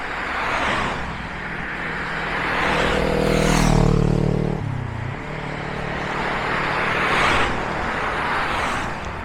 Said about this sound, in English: But now, so close to Hobart, it's a lot of traffic.